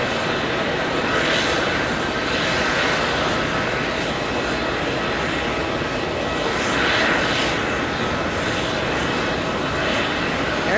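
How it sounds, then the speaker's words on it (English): An Emirates Airbus A380 taxiing from the gate to a remote parking area at John F. Kennedy International, its engines a continuous broad rumble with slow swells, moderately loud and steady. "Emirates A380 just repositioning from the gate to the remote parking area"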